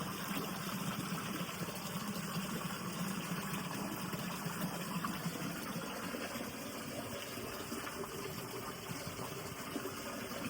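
Water pours steadily from a tiger-mouth spout at a shrine gate, a continuous close gushing splash with no break and no voices.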